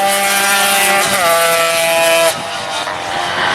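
A Moto3 racing motorcycle screams at high revs during a 125cc race at Brno, holding a loud steady tone, then shifting pitch and dropping away as it passes.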